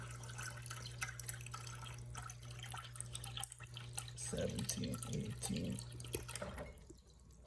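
Water is poured into a Guinness glass as a soft, steady trickle that stays faint and close, while a voice counts out numbers partway through.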